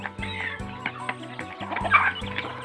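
Free-range Burmese chickens near a house give repeated close, clear clucks in short bursts, several birds overlapping with a few sharper, higher calls near the end.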